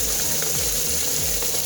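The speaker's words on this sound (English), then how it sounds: "make sure you rinse them really well" Tap water runs steadily while freshly scrubbed potatoes are rinsed, a continuous close rushing wash with faint clunks underneath and no talking.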